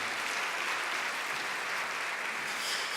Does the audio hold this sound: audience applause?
yes